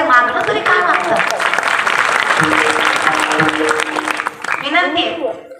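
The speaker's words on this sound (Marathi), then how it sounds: "तुम्ही टाळ्या वाजवताय पण उपकार करताय." Audience at a Marathi kirtan by a performer in Kongli claps loudly and continuously for several seconds, a dense patter that fades out before a voice speaks at the end.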